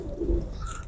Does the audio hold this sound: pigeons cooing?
yes